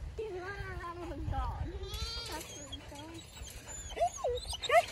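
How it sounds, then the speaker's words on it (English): Baby goats bleat in high, wavering cries near a female Great Pyrenees dog, with soft whimpers mixed in while people talk nearby. "He's running around with a dog."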